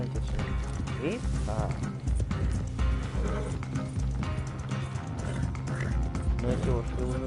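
Horses moving with irregular hoof clops and faint mechanical rattling, heard amid continuous talking and busy background noise.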